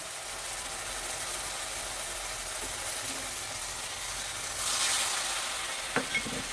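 A water-mixed paste of cumin, coriander, turmeric and chili powder sizzles in oil, a steady hiss that swells louder for a moment before a couple of spoon taps.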